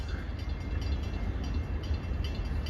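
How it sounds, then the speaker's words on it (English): An LIRR M9 electric train approaches Wyandanch station, a steady low rumble and rail roar holding at moderate loudness throughout with no voices. "we got an M9 coming."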